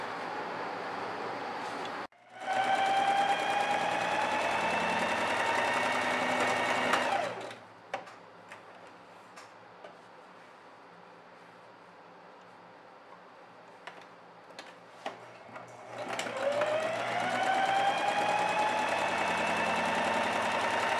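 Sewing machine stitching the side seams of a fabric strip, loud and close with a rising whir at start and stop, running in two long bursts separated by a quieter stretch.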